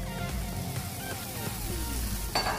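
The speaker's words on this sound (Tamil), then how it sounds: "ஸோ இப்போ வந்து நான் அந்த சாடி நான் ஆட் பண்ணுறேன்" Mackerel sardines hit a hot frying pan for sardine sambal, giving a steady close-up sizzle and crackle with a light clink of a utensil near the end.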